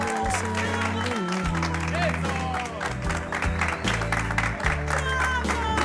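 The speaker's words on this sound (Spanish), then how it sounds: "Más palmas, más palmas, más palmas." A studio audience in a Peruvian television comedy series applauds, a continuous patter of clapping heard under loud music and overlapping voices talking.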